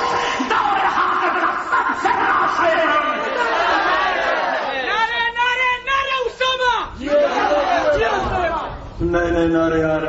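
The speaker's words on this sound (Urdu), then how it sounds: "نئے نعرے آ رہے ہیں." A large crowd at a religious gathering chants slogans in unison, loud rhythmic bursts of massed voices with short gaps, plus a nearby individual voice shouting between the chanted phrases.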